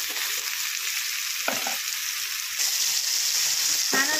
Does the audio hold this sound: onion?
yes